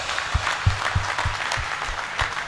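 A pandal audience at a comedy show in Jodhpur claps together, a steady wash of applause running over a regular pulse of deep thumps, close and moderately loud.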